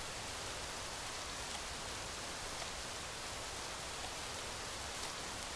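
Steady rain falls in the video game Rising World, a constant, even hiss of moderate loudness with no distinct drops or other sounds over it.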